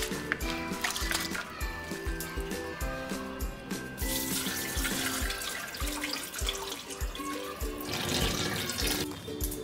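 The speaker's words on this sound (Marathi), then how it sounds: "पाणी भरून ठेवणार आहोत।" Tap water runs steadily into a container of soaked ration rice, a continuous close splashing and gurgling that stays loud throughout.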